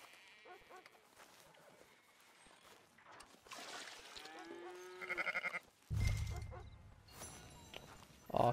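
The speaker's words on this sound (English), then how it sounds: "It's one sheep on its own." A single sheep bleats a few times in Red Dead Redemption 2, heard in short wavering calls amid quiet farmyard ambience and insect hum, with a sudden louder thump and rustle near the end.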